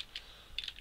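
Light typing on a computer keyboard during coding, a brief burst of soft key clicks with a short pause between two clusters, quiet and close, with no talking.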